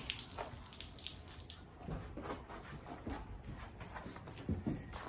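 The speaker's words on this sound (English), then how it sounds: "I'm spraying the water all around his sheep area and getting him used to having the water." Water sprays steadily around a sheep's pen area, a faint, continuous hiss and splatter with occasional louder splashes and no talking.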